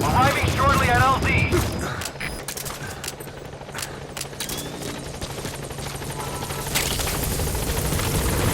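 Helicopter arriving at a landing zone in Metal Gear Solid V: The Phantom Pain, a steady rotor drone under a voice over radio at first, then bursts of gunfire and mechanical clatter with the rotor swelling louder near the end.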